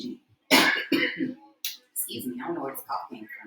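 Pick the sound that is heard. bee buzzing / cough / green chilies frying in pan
cough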